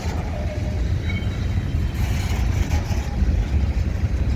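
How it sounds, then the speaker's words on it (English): A freight train rolls slowly into a rail yard in Minneapolis, a steady low rumble of wheels and cars sustained close by throughout, with faint higher squeals riding over it. "this train here is the 5th one I've seen today"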